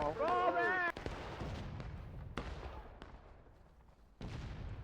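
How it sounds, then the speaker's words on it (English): Artillery fire in a Grand Campaign video game battle: three deep, sharp booms spaced a second or two apart, each trailing into a rumbling decay. A brief voice is heard at the start. "Union hits a nice arty shot in the distance of their own."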